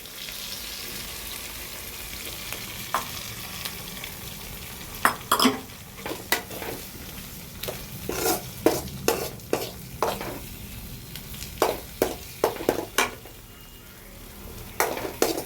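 Two beaten, lightly salted eggs fry in a pan for an idli egg fry snack, a constant sizzle with a long run of quick scraping and tapping strokes from a spatula, close by with no voices.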